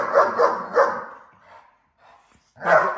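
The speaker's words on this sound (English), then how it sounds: "this is what's really important with a dog. That bark." A police K9 dog barks loudly up close: three quick barks in a row, a short lull with a soft whine, then one more bark.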